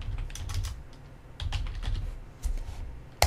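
Fingers type on a computer keyboard in quick bursts of close clicks and clacks, separated by short pauses, with no talk over them.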